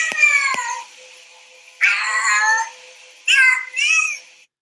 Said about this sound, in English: So here is a good example of what yowling sounds like.